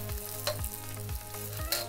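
Onions go into a sizzling pan for a beef stir fry with carrot, giving a loud steady frying hiss with rhythmic stirring scrapes and clinks throughout.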